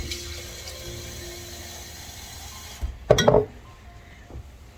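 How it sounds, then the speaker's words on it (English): Water pours into a pot of turkey chili in one short burst of about half a second near the end, loud against a quiet kitchen hum. "So I'm going to put some more water in it."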